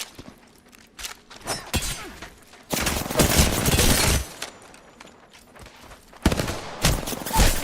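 Video-game gunfire erupts in bursts: scattered sharp single shots early on, then a long dense volley of rapid fire, a pause with a few cracks, and another loud burst at the close, with no voices heard.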